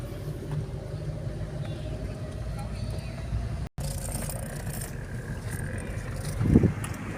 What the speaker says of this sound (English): So I'm driving out here